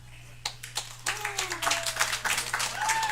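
A comedy club audience cheers and claps for a comic at a one-minute stand-up showdown, with scattered claps building into steady applause and whoops rising over a low background hum.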